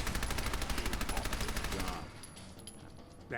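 Rapid automatic gunfire in Fallout 4, a steady close burst of shots for about two seconds before cutting off into quieter background ambience.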